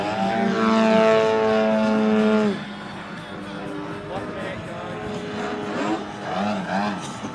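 A large 104-inch Extra radio-controlled propeller aerobatic plane screams through maneuvers, its engine pitch sweeping loudly then dropping to a softer, varying drone, with a commentator talking over it.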